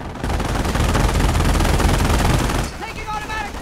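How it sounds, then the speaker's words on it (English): Sustained automatic gunfire from the Company of Heroes World War II game, loud, close and rapid for about two and a half seconds, then breaking off into quieter battle noise with a voice over it. "Taking automatic fire."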